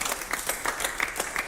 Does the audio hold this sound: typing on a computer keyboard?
no